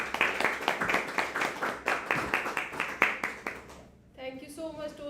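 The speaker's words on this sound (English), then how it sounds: "A huge round of applause for her." A small group at a Toastmasters meeting claps in a fairly even, rhythmic patter for about four seconds before the clapping stops and a voice starts speaking.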